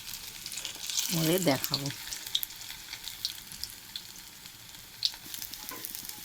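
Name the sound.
fish fritters frying in oil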